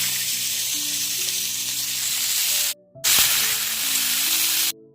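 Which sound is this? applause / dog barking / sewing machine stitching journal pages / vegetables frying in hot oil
vegetables frying in hot oil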